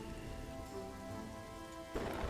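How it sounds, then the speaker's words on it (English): Steady rain patters in the medieval city-building game Kingdoms & Castles, a soft continuous hiss with a faint low rumble, brightening briefly near the end. "Hopefully these rains won't interfere with our harvest."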